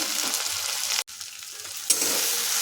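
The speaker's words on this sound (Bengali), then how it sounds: "টমেটোটা নাড়তে নাড়তেই গলে গেল" Chopped tomato with salt fries in a pan in a loud, continuous sizzle while being stirred, the hiss cutting out for a split second before resuming just as strongly.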